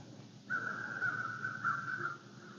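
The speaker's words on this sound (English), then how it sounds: "with all that crow commotion" Crows cawing near a dried-up pond during a November morning bowhunt, with a single long drawn-out caw ringing clearly over quiet outdoor background.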